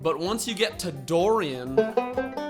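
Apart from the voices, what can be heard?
No distinct noise like a dog, phone or traffic.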